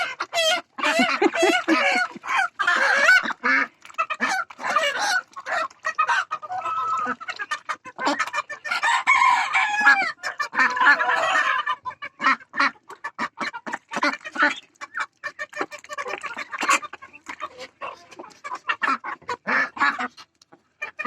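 A crowd of domestic chickens and ducks clucks and quacks constantly in hot weather, many overlapping calls close by, with brief quieter gaps between bursts.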